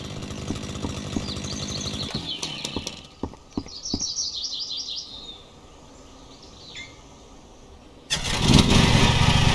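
A riding lawn mower engine in Lawn Mowing Simulator, idling and then throttling up into a loud, steady roar at the end, with bird chirps and clicks in the ambience.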